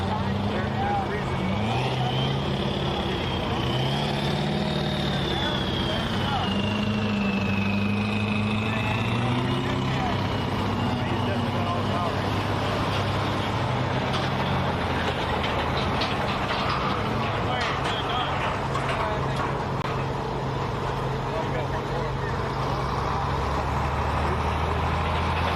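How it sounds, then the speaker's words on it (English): A 1999 Dodge Ram 2500 pulling truck called the Black Beast runs at a truck pull in Mt. Hope, Ohio, its engine droning steadily and loud throughout, with a public-address voice talking over it. "That'll bring up our next truck, a 99 Dodge Ram. 2500."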